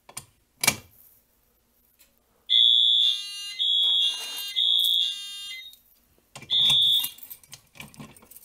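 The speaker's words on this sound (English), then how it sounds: "That Wheelock AS sure is loud." A Wheelock AS fire alarm sounds after a pull station is activated: four loud, piercing, near electronic tone bursts with short gaps, preceded by a sharp click and mechanical handling.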